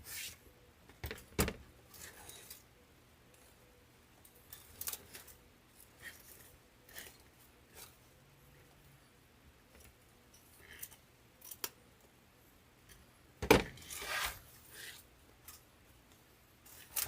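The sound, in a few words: scissors trimming ribbon tails on grapevine wreath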